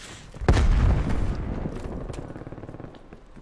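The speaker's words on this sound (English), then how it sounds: "Sending frag grenades" Frag grenades go off in a multiplayer shooter as one heavy boom that rolls into a long rumbling decay, with faint crackling behind it.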